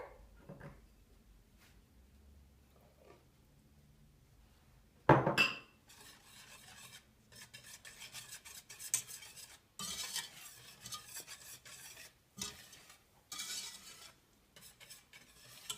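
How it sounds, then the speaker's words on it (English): Cocoa powder is beaten into a batter in a bowl, with bursts of scraping and clattering against the bowl coming and going between quiet pauses, close-up, with one sharp loud knock near the start. "we will be beating in cocoa powder"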